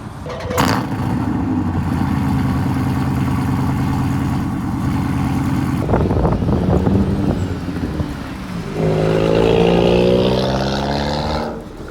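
A Lamborghini Aventador's engine at an outdoor cars and coffee meet: a steady idle drone under wind noise, a brief shift, then a rising rev that swells loudly before easing off.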